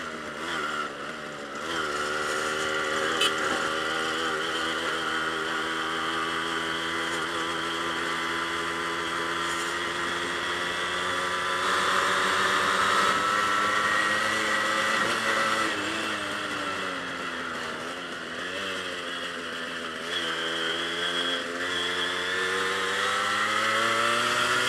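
A Yamaha RX100 two-stroke motorcycle strains up a hill in Pokhara, Nepal, its engine droning loud and continuous with a buzzy, wavering pitch that rises and falls with the throttle, recorded from the bike itself with no talking.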